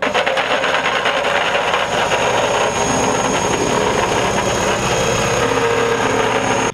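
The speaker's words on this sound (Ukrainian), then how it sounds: "Після укладання свіжим асфальтом проїжджаються вібротрамбовкою." A heavy vibratory compactor rumbles steadily over fresh asphalt during pothole repair, a constant vibrating drone, loud and close, no pauses or speech throughout.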